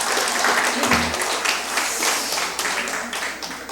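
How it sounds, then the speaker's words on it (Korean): A church retreat congregation applauds a church elder, a broad, continuous wash of clapping from many hands that carries on steadily for several seconds without speech on top. "여러분 박수 한번 주세요."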